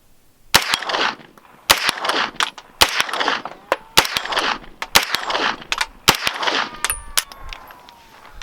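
A Kriss Vector 9mm Gen 2 CRB fires a quick string of about a dozen sharp shots, each followed by a bright metallic ring from a small 6-inch steel plate, outdoors at close range with no talking.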